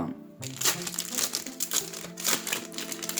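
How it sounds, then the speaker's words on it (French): A Pokémon trading card booster pack is torn open at close range: a dense run of crinkling and crackling foil after a brief quiet start. "Ouvrir un petit booster."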